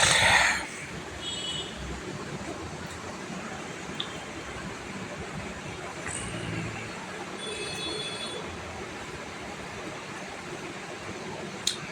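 Passenger train running on the Badarpur to Guwahati line, heard from inside as a steady broadband rumble of wheels and carriage with faint squeaks, a brief louder burst at the start.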